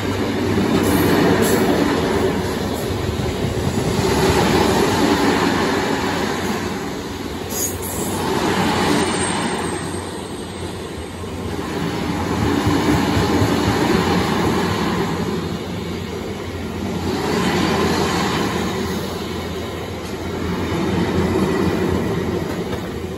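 A Class 66 freight train rolls through a station at night, a loud, steady rumble of wagons with rhythmic wheel clatter swelling and fading repeatedly as cars pass close by, with faint squealing.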